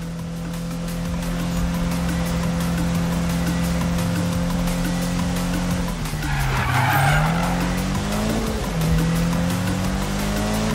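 Tires squeal as a car skids in a Need for Speed racing game, a drawn-out screech over a steady engine drone that dips and swells across several seconds, with no voices.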